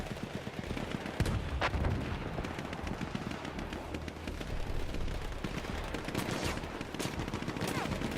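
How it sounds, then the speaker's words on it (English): Distant, muffled gunfire in the video game Battlefield 1 crackles in scattered bursts and single shots over a constant low rumble, with no clear voices. "I hear the firefights."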